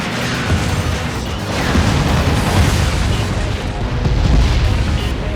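A power missile blast in the Twisted Metal Head On: Extra Twisted Edition vehicle combat game, dense rumbling explosion noise rolling on loudly for several seconds with no talk over it.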